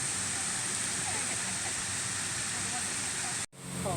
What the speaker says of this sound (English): Hey Jacob, we're at Emerald Pool Waterfall now